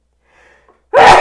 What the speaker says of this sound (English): I realized that was very loud sneezing, so I apologize.